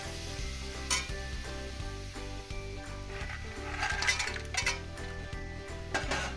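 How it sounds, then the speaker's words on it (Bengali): Fried brinjal and lentil dumplings go into a pan of gourd greens cooked with sesame and poppy seed, producing gentle sizzling, utensil clinks and stirring scrapes over a steady low hum. "এবার এর মধ্যে আমি ভেজে রাখা বেগুন আর বড়িটা দিয়ে দেবো।"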